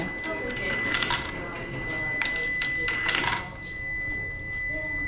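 A coin-operated machine, paid with euro coins, rings with steady electronic tones over a clattering, mechanical background, while a person talks nearby.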